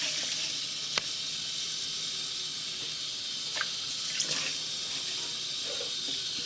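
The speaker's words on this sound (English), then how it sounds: "So wash it 2-3 times with the cold water." Rice being washed in cold water while preparing a dried fruit and nut pilaf: running water hisses steadily with small sloshing splashes and occasional clinks from the bowl.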